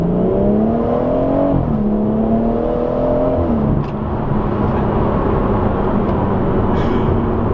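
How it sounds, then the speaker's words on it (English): Heard from inside the cabin of a BMW M140i with an M Performance exhaust, engine revs fall and rise in a steady drone, with low exhaust burble and faint overrun crackle as the car decelerates. "the overrun is noticeably more active. You can hear it a lot more."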